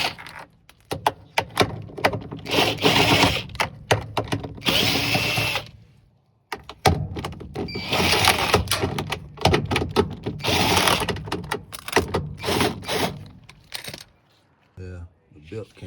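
A power tool whirs in several long bursts while three 10mm bolts are removed from the cover of a GE washer, with clinks of metal and small parts between runs, close and loud.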